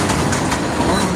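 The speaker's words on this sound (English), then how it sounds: "Oh, this train coming." A train passes nearby with a dense, continuous rumble and rattle that holds steady and loud throughout the brief moment.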